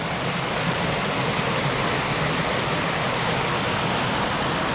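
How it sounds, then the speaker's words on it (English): A full, high-water river or stream in the Smoky Mountains rushes steadily nearby, a loud, unbroken wash of flowing water with no voices over it. "That's what the river looks like right now, or stream"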